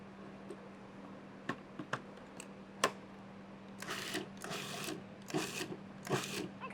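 Food processor blending basil pesto, running in several short whirring pulses that start a few seconds in, with quiet clicks and handling noise before.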